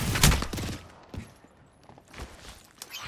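Shots crack in a brief volley at the start of a round in a squad-based shooter, then fade to scattered quieter pops and ambient noise.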